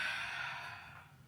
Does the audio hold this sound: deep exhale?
yes